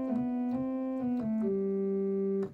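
A sustained pipe organ Geigen principal 8-foot flue stop on the swell division plays a slow melody of held notes, bright and steady, with soft clicks at each note change, alone without voices.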